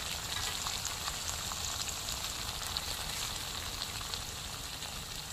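Croaker fish frying in oil, Mangalore-style masala fry, a continuous dense crackling sizzle held at an even level from start to finish.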